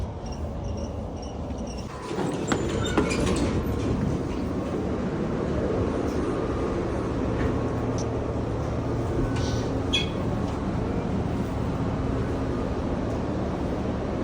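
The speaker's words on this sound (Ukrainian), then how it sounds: "ми сіли в трамвай" A tram's steady rumble in Lviv, Ukraine, heard from aboard, with a clunk near the start and faint squeals and clatters riding over the constant low drone.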